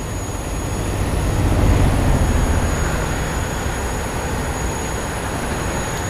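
A freight train rolls past in a train simulator game, a steady rumbling clatter of wagons and wheels that swells briefly and then holds at a constant level, with no talking.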